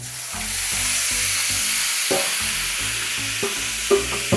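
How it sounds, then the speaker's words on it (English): Pork belly fries with a loud, steady sizzle in a hot, smoky wok, with low rhythmic music playing underneath and a couple of light clanks near the end. "Now we see our clean wok is nicely hot, smoky. Let's put in our pork belly."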